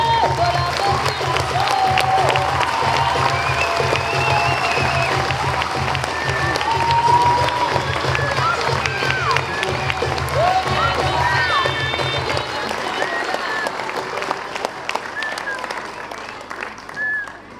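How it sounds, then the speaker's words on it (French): A large audience at an end-of-year school gala show applauds and cheers at length, with whoops and voices over steady clapping and a low hum under it that drops out near the end as the applause tapers. "Un immense applaudissement pour eux."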